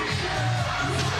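Crowd noise from a busy arena at the FIBA 3x3 Asia Cup basketball finals, a steady dense roar of cheering with no pauses.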